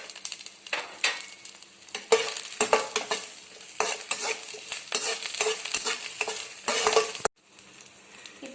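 Spices for idli podi, with asafoetida added, being stirred and roasted in a pan: a steady close sizzle with repeated scraping strokes of a spoon against the metal, ending in a brief quiet gap and then renewed stirring.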